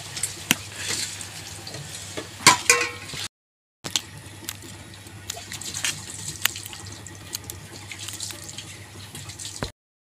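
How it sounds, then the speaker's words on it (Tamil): Onion and drumstick leaves fry in a pan while being stirred, giving a steady soft sizzle with scraping clicks and clatter, briefly cut out once midway. "வெங்காயம் முருங்கை கீரை எல்லாம் போட்டு கலரி விட்றேன்"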